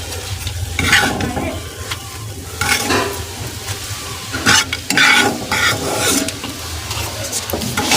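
Eggplant slices fry in hot oil with a loud, continuous sizzle, broken by repeated scraping and stirring strokes as pieces are moved around the pan, with no talking.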